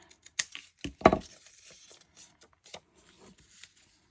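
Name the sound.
cutting paper with scissors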